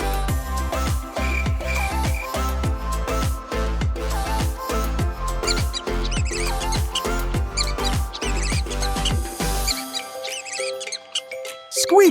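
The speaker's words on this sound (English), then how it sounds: "Squeak, squeak, the mouse is tiny and fast." A mouse squeaks in a fast, steady series of short, high chirps that carry on for several seconds, with a tonal music bed playing underneath.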